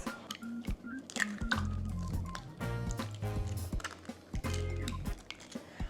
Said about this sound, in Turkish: Dört tane yumurta kırıyoruz.